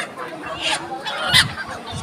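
Geese honk loudly a couple of times close by, with a busy, noisy bustle in the background at a large market in Mymensingh selling ducks, chickens, pigeons and goats.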